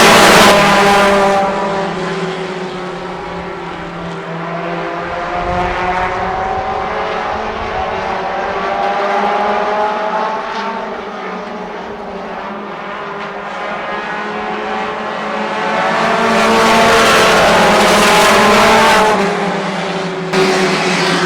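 Modified, late model, street stock and front-wheel-drive race cars roar around the Kalamazoo Speedway oval in a loud, continuous pack drone, engines swelling and fading as the field passes, with tires faintly squealing.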